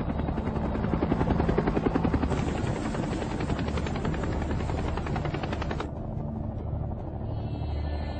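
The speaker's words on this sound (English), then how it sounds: "Four miles outside of LZ X-Ray, the choppers drop to treetop level." Helicopters fly low at treetop level in a Vietnam War battle scene near LZ X-Ray, a loud continuous rotor thrum and rapid blade chop dominating throughout, fading slightly toward the end.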